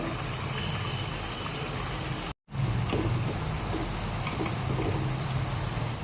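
Kara murukku frying in hot oil over a medium flame, a steady close bubbling hiss that runs on evenly, broken only by a brief dropout partway through.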